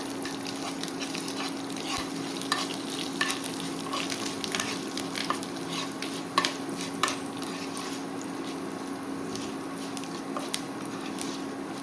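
Asafoetida being stirred into hot oil for a mango sasav curry, frying with a steady close sizzle, a low constant hum and scattered scraping clicks of a spoon against the pan.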